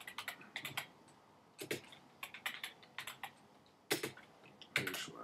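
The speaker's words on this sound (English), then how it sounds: "we're going to type in sudo, and bear with me, I'm not the best typer" Someone types on a computer keyboard in short, irregular bursts of quick key clicks separated by brief pauses, close and fairly quiet, with no talking.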